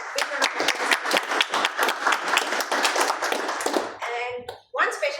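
Audience applause at a Toastmasters meeting, brisk dense clapping from a small room of people lasting several seconds before a voice begins speaking.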